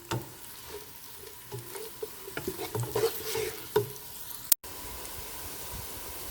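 Onions cooking in a pan for achar gosht, turned with a spoon as they soften, giving a soft continuous sizzle broken by a few close scraping stirs, with a brief sharp knock near the end.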